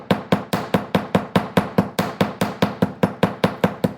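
A hammer strikes the end of a wire bangle to texture it, a rapid even series of about twenty sharp close taps with no talk.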